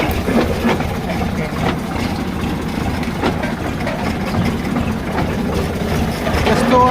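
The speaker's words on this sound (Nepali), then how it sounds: "यस्तो ओह्रालोमा कुद्छ हाम्रो ट्र्याक्टर" A tractor hauling a load of firewood rolls down a steep hillside track, its heavy diesel engine rumbling and chugging steadily up close, with faint clatter from the load over the low drone.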